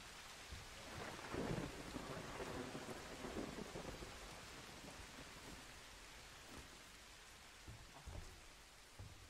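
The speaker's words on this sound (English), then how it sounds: "The thunder needs to stop messing with my head." Thunderstorm with rolling thunder and steady rain in an outdoor setting, the rain hissing continuously while low thunder rumbles build and swell, including a stronger burst early on, all fairly distant and without voices.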